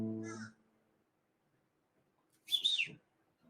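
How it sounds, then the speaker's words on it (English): A crow calling from a tree outside a window: one brief harsh squawk heard faintly at a distance, preceded by a short trailing note and otherwise quiet room. "I've got a crow heckling me from the tree outside my window"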